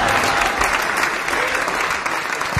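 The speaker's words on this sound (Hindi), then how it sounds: "तालियां जोरदार आनी चाहिए।" Loud, dense audience applause at an Urdu poetry recital, steady clapping from a crowd filling the whole stretch with a few scattered voices underneath.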